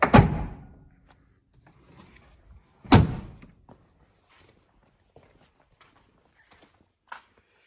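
Rear door of a Nissan Patrol with a fitted-out interior swinging shut: a loud solid thunk at the start, a second heavy slam about three seconds later, then faint scattered knocks and shuffling.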